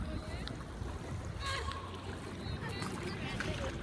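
Seawater rushing in through a gap between rocks on a Seychelles shore, a steady broadband wash with splashing, continuous and fairly close, with a voice talking over it.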